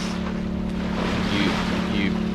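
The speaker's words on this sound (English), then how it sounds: "that's why you hear that generator going" A steady boat generator hum drones continuously aboard a sailboat, with a low constant tone and faint wind or water noise around it.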